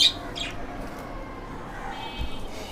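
Pet birds in a breeding setup with black-eyed creamino, rainbow, dilute and fallow pairs, giving a few soft, brief chirps and a faint trill over quiet room noise.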